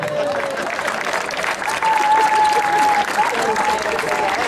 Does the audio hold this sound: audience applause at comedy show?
yes